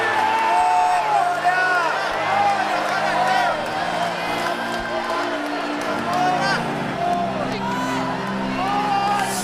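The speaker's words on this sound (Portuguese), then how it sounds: "pare de aplaudir, igreja, e comece a glorificar" A church congregation claps and cheers with whoops and shouts, a dense, lively crowd roar that holds steady throughout, with voices calling out over it.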